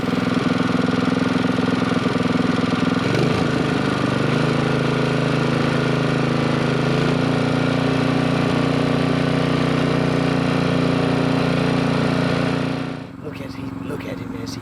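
A yard-built jet boat engine runs steadily and loud throughout, a droning mid-pitched hum that shifts pitch partway through before cutting back near the end, with voices talking over it.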